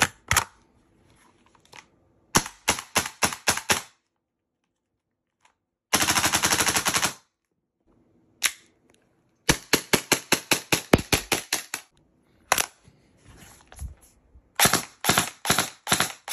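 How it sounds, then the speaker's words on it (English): A Kriss Vector, a Glock 17 and a Kel-Tec PLR AR pistol are fired indoors in a bedroom. Sharp, close shots come singly, in quick strings and in one rapid burst, separated by short silences. "I will now be shooting a Chris Vector, a Glock 17, and a Kel-Tec PLR AR pistol in my bedroom"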